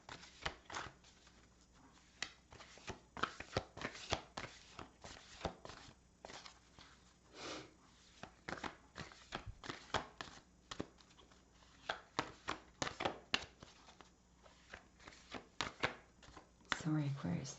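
Moonology and oracle cards being shuffled by hand, a long run of quick riffling bursts in an irregular rhythm, close and fairly quiet, with a person talking at times in between.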